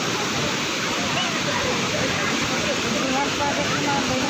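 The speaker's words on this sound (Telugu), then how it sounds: "మీరు ఎప్పుడైనా ఇలా దగ్గరికి వెళ్ళి చూసారా వాటర్ని డోర్ ఓపెన్ చేసినప్పుడు" Water roars loudly and steadily through the opened gates of the Himayat Sagar dam, a dense, unbroken rushing torrent heard up close with no pauses.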